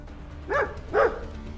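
Two loud, close dog barks from a TV show, spaced about half a second apart, set against a low steady background hum.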